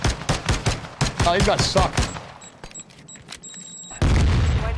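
Video game gunfire with sharp broadband shots in quick bursts, one player firing through smoke, heard under excited talk and then a loud burst at the end.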